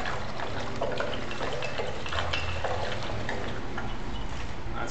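Wine pours from three 1.5-liter bottles through a funnel into a bag for a bag-in-a-box, a steady liquid gurgle and trickle running continuously up close with faint ticking knocks.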